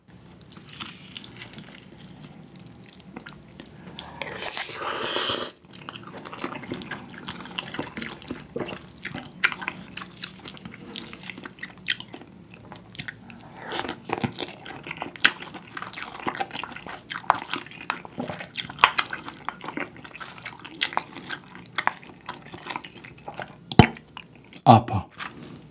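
Someone eats Spam budae jjigae, a Korean army stew, with wet chewing, slurping and drippy squishing sounds close up, a steady stream of moist mouth noises with occasional sharper clicks over about twenty-five seconds.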